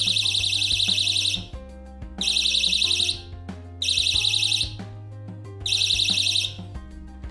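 A cheap battery door alarm sounds four loud, shrill electronic ringing bursts in a regular on-off pattern, each lasting about a second, with steady background hum between.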